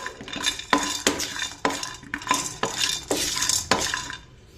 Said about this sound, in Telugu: నెక్స్ట్ కొంచెం మిరియాలు జీరా అండి ఇది కొంచెం ఫ్రై అయిన తర్వాత